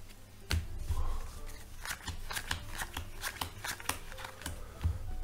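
Playing cards are dealt one by one into piles on a table, producing a series of crisp, close slaps and flicks at an uneven rhythm, with soft handling noise between them.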